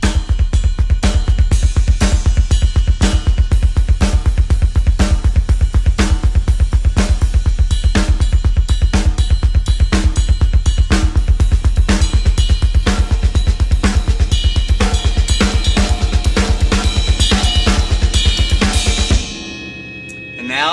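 A drummer plays a double bass drum pattern with hand patterns on snare and cymbal, a loud steady stream of rapid kick strokes under crashing cymbals and snare hits for about nineteen seconds before cutting off.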